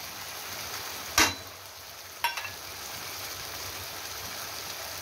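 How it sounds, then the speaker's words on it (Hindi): Onion and spice masala fries in a pan for a moong dal mangodi curry, giving a faint, steady hiss broken by two sharp metallic clinks a second apart. "इसे अच्छे से फ्राई होने देते हैं, साथ में मसाला भी फ्राई होगा।"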